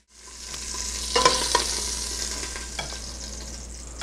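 Meat for spaghetti browns in a hot pan over aggressive heat, a continuous bright sizzle with a few sharp scrapes and clicks of stirring near the middle.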